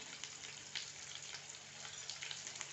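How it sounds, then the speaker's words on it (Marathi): Chopped onion frying in a pan over a full-high gas flame, a steady close sizzle with crackling spits and bursts, no voices over it. "कांदा टाकल्यास आपण गॅस फुल करू म्हणजे कांदा लवकर भाजेल"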